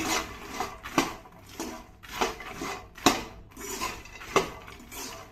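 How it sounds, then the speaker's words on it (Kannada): Fried makhana being tossed with masala in a pan, with repeated scraping and clattering strokes of a spoon against the pan every second or so, close and fairly quiet, no talking. "ನೀಟಾಗೆಲ್ಲ ಮಿಕ್ಸ್ ಮಾಡ್ಕೊಳ್ಳೋಣ ಆಲ್ರೆಡಿ ಮಖನ ನಾವು ಫ್ರೈ ಮಾಡಿರೋದ್ರಿಂದ ಜಸ್ಟ್ ಅವುಗಳನ್ನ ಕೋಟ್ ಮಾಡಿದ್ರೆ ಸಾಕು"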